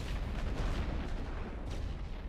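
Artillery in a WW1 strategy video game pounding at a tank, a dense rumble of overlapping booms and blasts, loud and continuous with no speech.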